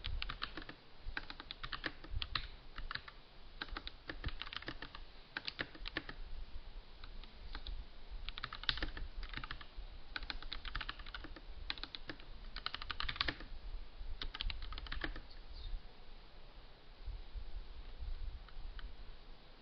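Steady typing on a computer keyboard, close and fairly quiet, with quick bursts of key clicks running throughout and no talking.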